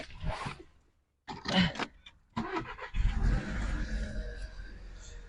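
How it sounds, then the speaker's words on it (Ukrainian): A cold VW Passat B7 engine cranks and catches after some brief handling noises, then settles into a steady low idle that continues to the end. "Зараз заведу, послухайте, як він працює."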